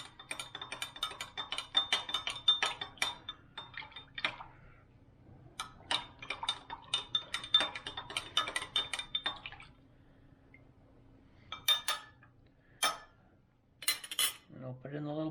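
Metal spoon stirring a homemade hand sanitizer mixture in a container, a run of close, rapid clinking and scraping strokes in bursts with short pauses, followed by a brief lower thud near the end.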